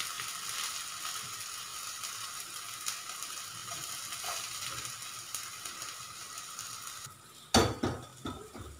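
Bottle gourd (lauki) fries quietly in a pan, giving a faint, steady sizzle, with one sharp clatter of utensil against metal near the end followed by a couple of softer knocks.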